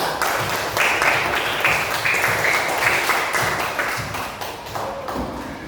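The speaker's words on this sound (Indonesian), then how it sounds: "kasih aplaus buat Rara" A classroom of students claps for a classmate, a dense run of hand claps lasting several seconds and fading slightly toward the end.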